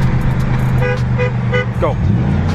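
A car engine drones steadily from inside the cabin and its pitch shifts as the driver downshifts, with a voice speaking over the motor.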